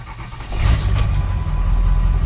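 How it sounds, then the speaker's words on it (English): A Ford Super Duty truck with about 411,000 miles cranks slowly on its starter, a loud, steady low grinding churn close by that never catches and fires. "It's slow cranking."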